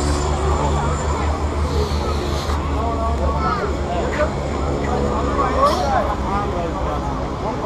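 A skydiving airplane's engine drones steadily and loudly in flight inside the cabin, with a constant low roar under indistinct voices chattering throughout.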